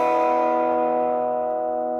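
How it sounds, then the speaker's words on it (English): A green Gretsch guitar rings out with a single strummed chord in open E tuning, its bright, sustained tone slowly decaying over two seconds with no talking. "we are in what's called open E tuning, which sounds like this."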